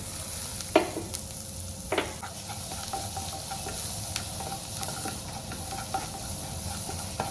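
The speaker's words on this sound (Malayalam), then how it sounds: "നേരത്തെ ബോയിൽ ചെയ്ത് വെച്ച വെജിറ്റബിളില്ലേ, അത് നമുക്ക് ഈ ബട്ടറിലോട്ട് ഇട്ട് കൊടുക്കണം കേട്ടോ" Boiled vegetables and garlic sizzle and hiss in melted butter, a steady frying bed broken by a few sharp stirring scrapes of the spoon against the pan.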